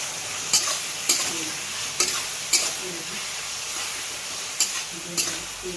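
Coriander powder and two tomatoes fry in a pan for chicken curry: a constant close sizzle broken by regular scraping stirs of a spoon against the pan, roughly every half second to second.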